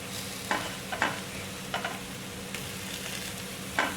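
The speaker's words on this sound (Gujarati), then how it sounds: "હાલો એમ આપણે મરચાં નાખી દઈશું" Chillies going into oil in a pan on a low flame for kharising sabji, a steady close sizzle punctuated by a few sharp spatula scrapes and clinks, with no voices.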